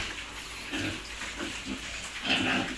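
Backyard fattening pigs, just injected with vitamins, grunt and snort repeatedly at close range, rough and irregular, with no talk over them.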